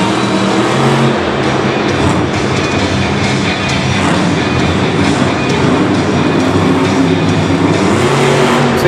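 The Megalodon monster truck's engine roars loud and unbroken during a slap wheelie at a Monster Jam event in Singapore, with dense, steady noise from the arena filling the whole stretch.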